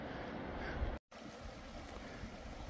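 A river stream on the Pacific Crest Trail flowing steadily, a continuous rushing wash close by, briefly cut off for an instant before resuming unchanged.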